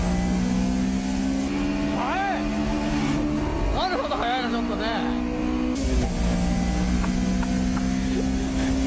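Honda S2000 race cars, AP1 and AP2 models including an MCR-tuned car, run on a racing circuit, giving a steady, droning engine note that continues throughout while a voice talks over it.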